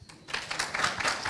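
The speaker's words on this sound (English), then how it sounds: "I think they deserve a round of applause" Audience applause for the event planners at a talk on the American market, a brief burst of scattered clapping that rises quickly and holds steady at moderate volume.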